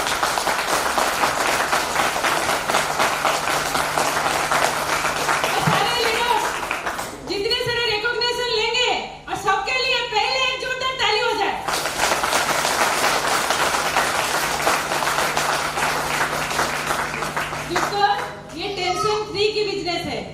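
Loud audience applause and clapping at a speech event in Odisha, sustained for several seconds, with brief pauses where a voice speaks between stretches of clapping.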